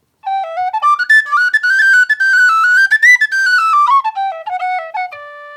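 A tin whistle plays a short solo melody of clear, bright, breathy notes that rise and fall over about five seconds, close and alone with no talking.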